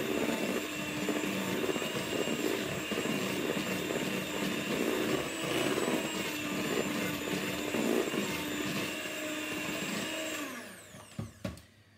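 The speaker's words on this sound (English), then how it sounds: "And another spoon of flour. And whisk that in." Flour being whisked into cake batter with an electric mixer, giving a loud, steady motor whine that runs without a break and then winds down and stops near the end, followed by a few brief knocks.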